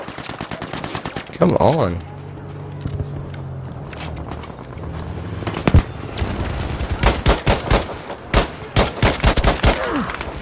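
Bursts of gunfire in Battlefield V, played on Xbox One: sharp close shots and rapid volleys, sparse at first and then quick clustered bursts, with a brief spoken voice early on and engine-like rumble in between.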